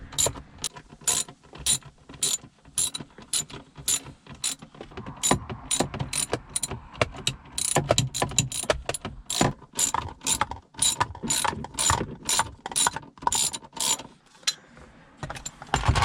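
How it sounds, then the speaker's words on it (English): A ratchet wrench clicks rapidly and repeatedly, tightening shifter base bushing bolts on a 9th-generation Honda Accord in quick bursts of close, crisp ratcheting with short pauses and no talking. "go ahead and tighten all 4 down"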